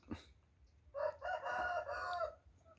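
A rooster of an imported fighting-cock breed crows once, fairly close and moderately loud, after a brief sharp sound and quiet background, the crow holding for over a second before cutting off.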